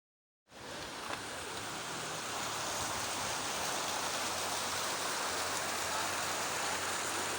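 Heavy rain pours steadily on the road to Sajikot waterfall near Havelian, Abbottabad, a dense hiss that starts abruptly and holds loud and even with no voices.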